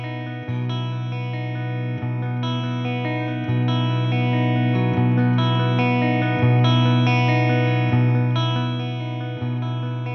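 Clean electric guitar played through TheGigRig More or Less remote volume pedal, sustained chords ringing with steady level shifts and a shimmering, effects-tinged tone, alone without talk.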